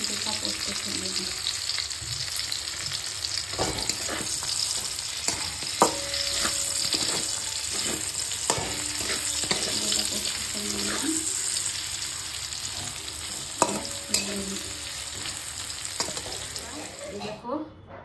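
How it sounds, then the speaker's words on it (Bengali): Flat beans (shim) sizzle steadily in a home-kitchen frying pan, a dense continuous hiss broken by sharp clinks and scrapes of a spatula stirring, close and fairly loud with no talking. "শিম ভাজা হয়ে যাচ্ছে"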